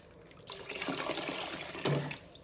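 Water pours steadily from a tap into a cooking pot for about two seconds, splashing and gurgling close up, then tapers off.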